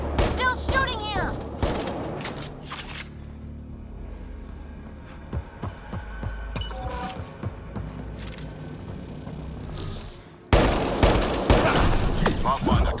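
Gunfire in the video game Mass Effect Andromeda, bursts of shots and thuds over a steady rumbling game soundscape, with voices talking throughout.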